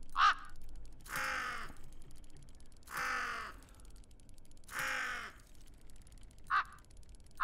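Mechanical crow in the Tick Tock: A Tale for Two video game caws three times at even intervals, each a loud, harsh croak with a tonal edge, separated by short bright chirps and low ambient hum.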